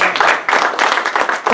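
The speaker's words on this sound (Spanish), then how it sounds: "Denle un aplauso al Señor." Congregation at a Sunday church sermon breaking into applause, bursts of clapping rising and falling for a moment, fairly close and loud, with a faint voice underneath.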